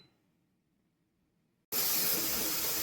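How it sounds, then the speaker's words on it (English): An electric pressure canner, loaded with pint jars of beef stew, abruptly begins venting steam through its open exhaust: a loud, steady broadband hiss that cuts in after quiet and continues alone. "it started its exhaust now"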